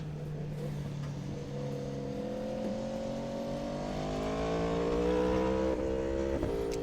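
An Aprilia motorcycle races along a Malaysian highway, its engine note rising steadily as it accelerates, loud and continuous with harmonic whine over wind rush and no talk.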